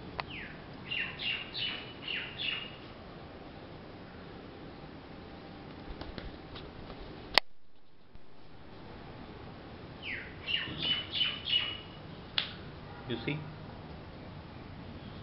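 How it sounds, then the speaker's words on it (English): A rescued baby bird chirps in short bursts of high, thin tweets, heard in clusters separated by pauses over a quiet background, with a sharp click partway through. "this bird is rescued now"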